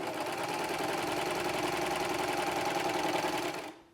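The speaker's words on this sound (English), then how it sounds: "to feed the fabric through the serger to create a polished piece" Serger sewing machine running steadily while stitching a scalloped rolled hem with a satin finish on fabric, a loud continuous rapid mechanical whirr that stops abruptly near the end.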